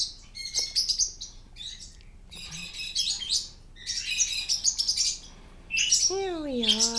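Pet birds in an indoor bird room chirp and whistle in bright, quick bursts, several calls overlapping close by with short pauses, ending in a rising and falling whistle.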